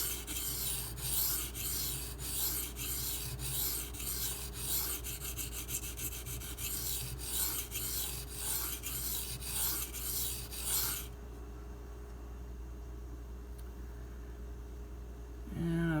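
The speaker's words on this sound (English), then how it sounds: "compared to the last time I sharpened on this, it is much more aggressive." An M390 steel knife blade is stroked steadily across a Takarazukushi 1k/4k whetstone in a rhythmic, close, gritty rasping that stops abruptly near the end, followed by quiet room tone.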